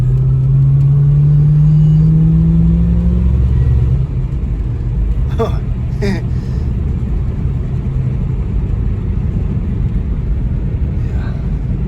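A poorly running Plymouth Gran Fury climbing a mountain road, its engine a loud, steady low rumble with a droning tone that eases after a few seconds, heard from inside the car with faint knocks.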